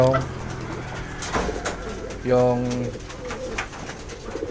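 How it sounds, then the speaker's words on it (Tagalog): Pigeons coo in low, repeated throaty calls nearby while a person talks over them. "So ayan sila mga kalapatids, yung mga ibon natin."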